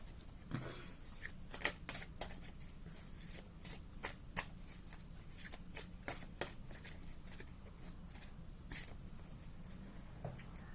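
Inner Peace Oracle cards are shuffled by hand in close, faint, rapid riffling and flicking bursts that repeat steadily throughout, with no voice heard.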